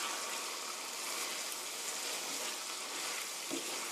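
Chicken with tomatoes stir-frying produces a dense, even sizzle with a wet, bubbling edge that holds steady, then a single soft knock near the end, and no speech.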